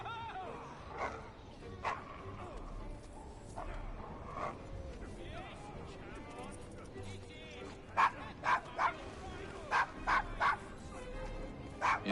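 A dog named Desmond in the Devil's Acre of Assassin's Creed Syndicate gives a series of sharp barks and yips toward the end, over busy street ambience and people talking.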